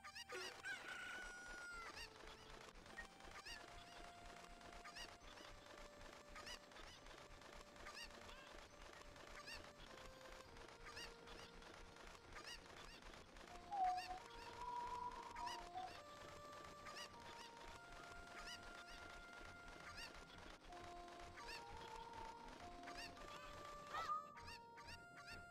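Cucco chickens in Zelda: Ocarina of Time cluck and crow faintly over a continuous backdrop of game music and effects, with a few brief louder squawks.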